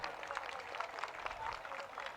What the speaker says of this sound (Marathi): तुमच्यासाठी जोरदार टाळ्या होऊन जाऊ द्या